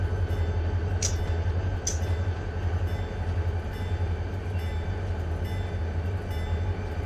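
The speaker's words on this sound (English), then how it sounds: "The supply train came in" Supply train in the Run 8 train simulator game, a steady loud rumble of rolling railcars with low droning engine tone and a couple of brief metallic clanks early on.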